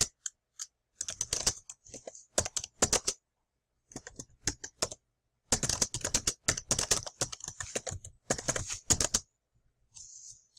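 Typing on a computer keyboard, close and crisp, in quick bursts of clattering keystrokes separated by short silences, with a few lone taps near the end.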